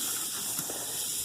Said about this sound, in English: Oh, hear that sizzle.